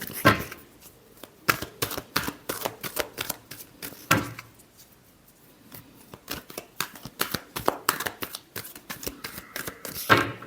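Tarot cards being shuffled in a long riffling run: dense, rapid papery flutters and snaps, with a couple of louder bursts near the start, middle and end, close by and with no talk.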